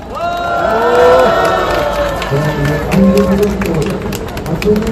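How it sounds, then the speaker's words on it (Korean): Crowd at a street rally in Korea, a Wednesday protest, clapping and cheering in welcome, with voices shouting and chanting over steady applause throughout. "그리고 여기에 모두 함께 하여 주신 분들과 함께 박수로 환영합니다."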